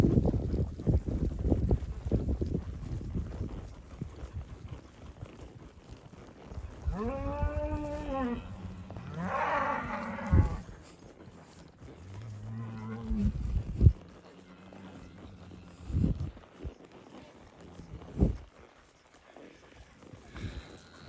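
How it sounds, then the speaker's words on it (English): Cattle moo repeatedly while being trailed through a canyon, with several drawn-out calls at middling distance over wind noise and a few thumps, and no talk over them. "Some cattle are coming from back that way."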